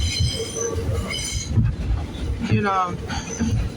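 Steady rumbling of a New York 2 subway train in motion with rattling wheels and high, whining squeals from the rails, loud and close, with talking partly buried underneath.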